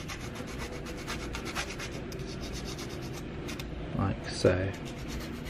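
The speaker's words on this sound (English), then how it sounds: "using a file, I'm just taking the burrs off of the ends of these" A file rasps across the ends of hardwood strips to remove burrs for a 00 gauge model railway coal staithe, giving a steady series of quiet scraping strokes with a couple of louder scrapes near the end.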